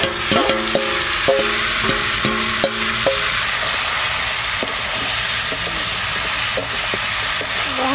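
Cauliflower frying in hot mustard oil with whole garam masala in a wok, a loud sizzling hiss that starts over a tune and keeps going steadily on its own.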